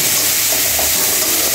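Pre-fried mung dal being stir-fried in a pan for a mixed vegetable curry, giving a steady, close, loud sizzle and hiss with faint scraping of stirring throughout.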